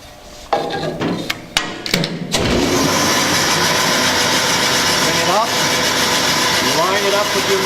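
A bandsaw cuts wood at 45 degrees, guided by a miter gauge. A few sharp clicks come first, then the motor runs up into a loud, steady whine with faint shifts as the blade cuts. A voice talks over it.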